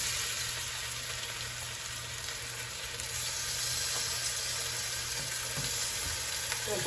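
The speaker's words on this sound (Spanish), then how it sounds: "Ya nuestro aceite ya está caliente, entonces vamos a empezar a sofreír, comenzando por los pedazos más grandes." Large pieces of beef oxtail searing in hot oil, a dense, continuous crackling sizzle that holds steady and close throughout, with no voices.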